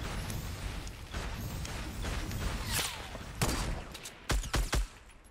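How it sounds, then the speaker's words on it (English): Sniper rifle fire in a PUBG battle royale match: a continuous crackle of distant shooting, followed by several sharp, separate shots and a cluster of loud, close reports near the end. "there's another sniper shooting it"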